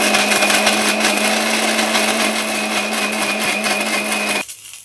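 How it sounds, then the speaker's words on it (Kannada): A kitchen mixer grinder whirs loudly and steadily as it grinds coconut, a constant motor drone that runs close and strong before cutting off abruptly near the end. "ಫಸ್ಟು ಕೊಬ್ಬರಿನ ಮಿಕ್ಸಿಗೆ ಹಾಕ್ಕೊಂಬಿಡೋಣ"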